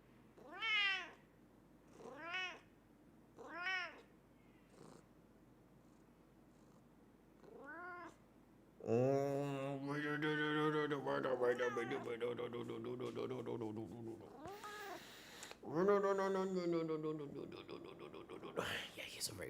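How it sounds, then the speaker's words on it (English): A talkative cat meows repeatedly and close up, several separate rising cries at first, then longer drawn-out yowls mixed with a person speaking softly, ending in more meows. "he's a very vocal cat. He's a super vocal cat."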